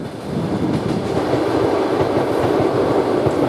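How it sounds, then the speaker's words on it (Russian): A train, likely bound for Konotop, rumbles steadily past nearby in a forest near Khutir-Mykhailivskyi, a loud continuous roar with a faint rhythmic clatter of wheels on rails, with a distant thunderstorm. "Едет поезд."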